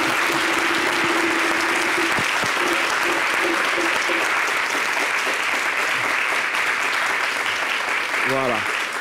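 Audience applause at a live event, dense continuous clapping from a large crowd that holds steady throughout, with a voice speaking over it near the end.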